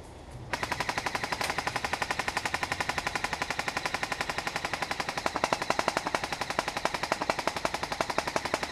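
Airsoft guns firing sustained suppressive bursts during a game at a derelict submarine dock, a dense rapid rattle of shots that runs continuously and loud throughout, with no pause.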